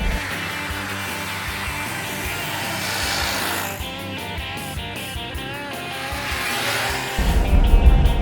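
A small 1971 Fiat 500L old car driving, its engine note rising and shifting steadily throughout, loud and close with no one speaking, ending in a heavier low rumble.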